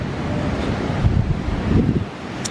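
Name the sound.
ocean waves at a beach in Cancun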